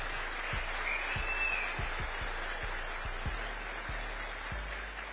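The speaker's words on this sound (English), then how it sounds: "Give them a round of applause" Audience applause at a Turning Point USA event, steady broadband clapping for about five seconds with a regular low thumping underneath and no talk.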